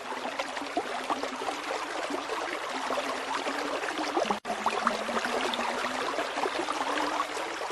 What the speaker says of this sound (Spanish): escuché el rumor de un arroyo